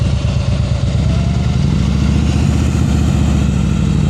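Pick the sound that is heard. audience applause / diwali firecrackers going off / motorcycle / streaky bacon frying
motorcycle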